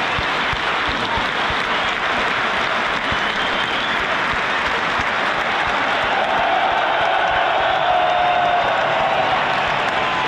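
A large crowd at Parken stadium during the Denmark vs Belgium football match claps continuously, a dense roar of applause that swells slightly toward the end, sounding vast and echoing.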